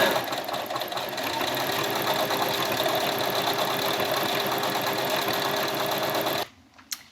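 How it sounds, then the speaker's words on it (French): A sewing machine stitches a decorative embroidery pattern with a fast, steady mechanical whirr and needle chatter that runs nonstop for several seconds, then stops abruptly with a couple of faint clicks. "J'ai plus qu'à baisser mon pied presseur pour venir broder mon motif fantaisie."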